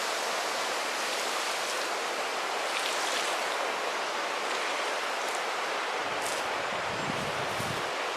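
Homemade liquid fertilizer pours onto garden plants such as raspberries and mint, a steady broadband splashing hiss that runs unbroken and close, with no talk.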